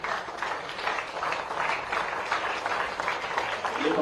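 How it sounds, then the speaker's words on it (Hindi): Enthusiastic audience applause at a welcoming ceremony for a world-champion athlete at the Chief Minister's residence, a dense steady wash of many hands clapping at close range for several seconds, with no speech over it. "एक बार आप सबकी जोरदार तालियां।"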